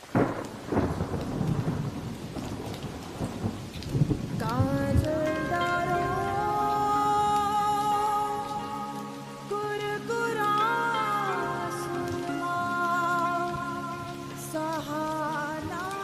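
Heavy rain pouring down with a sharp crack and rumble of thunder at the start, followed by steady downpour under sustained melodic tones.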